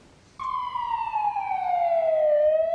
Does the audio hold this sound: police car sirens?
yes